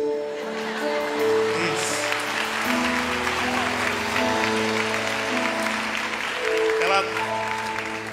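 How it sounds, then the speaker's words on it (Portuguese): A church congregation at an Assembly of God service claps under sustained organ or keyboard chords, the applause a continuous wash beneath the music. "Pode aplaudir sem inveja, irmão"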